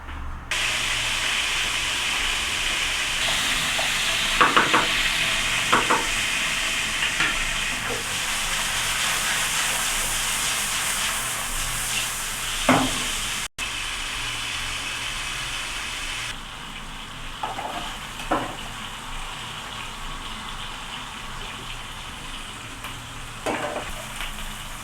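Small chicken pieces frying in vegetable oil in a frying pan, a steady loud sizzle and hiss throughout with occasional stirring clatters and scrapes, no voices.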